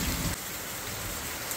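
Steady rain falls in a dense, even hiss, close and constant, alone without voices.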